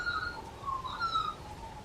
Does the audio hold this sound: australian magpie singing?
yes